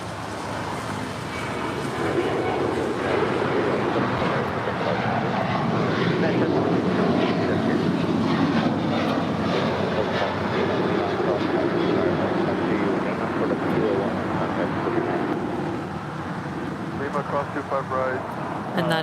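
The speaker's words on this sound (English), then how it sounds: "And that is United 1727 to Las Vegas, 737-900ER." A United Boeing 737-900ER jet airliner at Los Angeles gives a broad, moderately loud engine rumble that swells and holds steady, a continuous roar at some distance.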